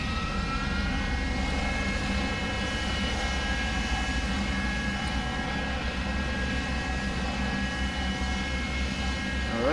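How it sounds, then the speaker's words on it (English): Both turboprop engines of a King Air C90 running steadily after start, a loud, constant droning whine with tonal hum that holds without change throughout. "Alright, both engines are turning."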